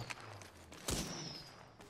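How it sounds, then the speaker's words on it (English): Gunfire in the Apex Legends video game rattles in bursts over constant game noise. One sharper, louder shot lands near the middle, and a faint steady whine runs behind it. "Yeah, they're shooting, but they're not getting me"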